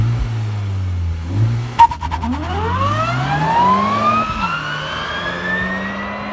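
Electric hybrid all-wheel-drive Honda Civic Type R FK8 with 450 hp giving off a rising turbine-like whine that sweeps upward in pitch as it accelerates, over a steady drive hum, fairly loud and close, with no talk.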